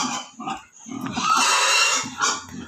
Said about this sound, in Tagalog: Bago nga na ang baboy, ititimbang sila na muna.